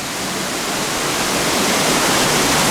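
Ardessie Falls pouring beneath a bridge, a loud, dense, unbroken roar of cascading water that fills the scene evenly and close at hand, with no voices.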